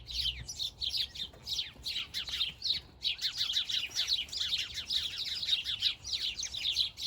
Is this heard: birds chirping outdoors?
yes